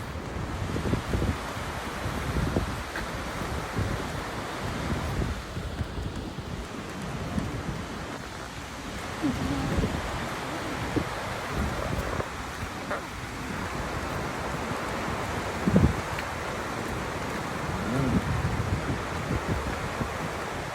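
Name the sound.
waterfall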